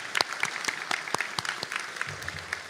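Audience claps at a college nurse pinning ceremony, a brisk burst of many hands with sharp individual claps standing out, moderately distant and steady.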